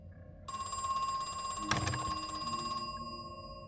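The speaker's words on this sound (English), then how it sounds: "Where the hell is the phone?" A telephone bell rings in a loud, continuous electronic trill inside the survival horror video game Crow Country, sounding close and clear, with a short thump partway through.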